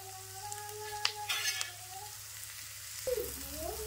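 Spice masala with chili powder and salt fries quietly in oil, a faint sizzle under a low background hum, with a few soft clinks and scrapes from stirring.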